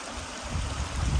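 A creek flows near Koorawatha Rocks, a steady low watery rush with soft gurgling that swells slightly louder partway through, no voices present.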